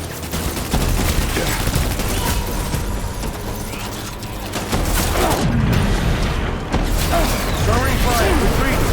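Sustained covering gunfire in the game Death Stranding, a dense, continuous barrage of shots and mechanical clatter that swells louder in the second half, with voices calling out beneath it.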